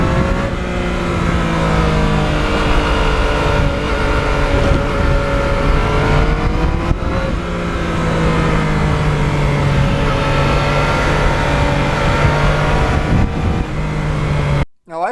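A Yamaha MT-09 motorcycle cruises along shaded back roads, its engine droning loud and close with rising and falling revs and steady wind rush, cutting off abruptly at the end.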